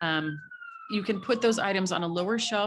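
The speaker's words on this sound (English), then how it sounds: "sorry about the sirens" A siren wails steadily behind a person speaking, its long tone sliding slowly downward beneath the talk as it passes outside.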